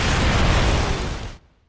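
Loud, dense explosion blast from Halo: Reach gameplay, a sustained broadband roar with heavy low rumble holding for over a second before cutting off abruptly into near silence.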